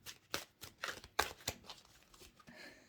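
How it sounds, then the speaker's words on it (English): Large oracle cards are shuffled by hand close up, giving a quick run of soft riffling slaps and flutters that tail off into lighter rustling. "Oh, these are difficult to shuffle. They're large cards."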